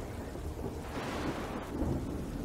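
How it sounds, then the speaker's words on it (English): Rain falling in the video game Strayed Lights, with deep rumbling like thunder underneath, a steady wash of noise at moderate volume, no one speaking. "it's raining"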